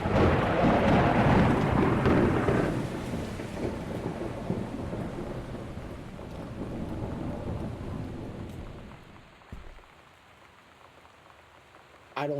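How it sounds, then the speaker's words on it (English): Rolling thunder and steady rain from a storm in the video game Gone Home, loud at first and then easing to a lighter patter, with a brief thud near the end. "I don't like thunder."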